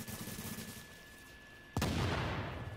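Gunfire in the video game The Division: a dense burst of shots rattles early, then after a lull a single sharp, loud blast rings out and tails off into noisy echo.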